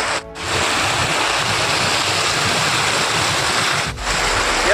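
Strong river flow after overnight rain rushes in a steady, loud broadband roar close by, continuous for the whole stretch with a brief dip near the start and another near the end.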